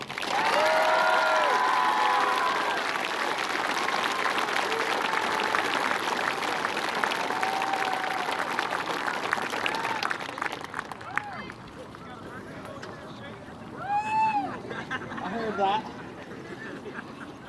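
Commencement audience at a class of 2022 graduation applauding loudly and steadily for about ten seconds, with cheers and whoops over the clapping, then the applause thins to scattered claps and voices.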